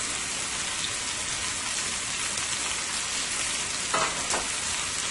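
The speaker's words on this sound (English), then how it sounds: "You just want to brown the pot roast on each side." Beef pot roast browning in a hot pan, a loud, dense and continuous sizzle and crackle close by, with a couple of brief sharper spits near the end and no talking.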